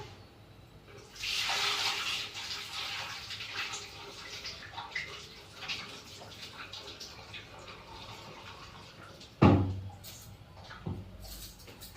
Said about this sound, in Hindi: इसका पानी सब निकाल देते हैं।